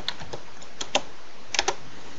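Sparse keystrokes on a computer keyboard, a few isolated clicks followed by a short cluster of taps, close and fairly quiet with no talking.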